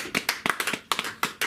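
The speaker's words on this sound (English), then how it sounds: "give yourself a round of applause" A small comedy-club audience claps in short bursts, a handful of sharp, uneven hand claps repeating close by, with no voices over them.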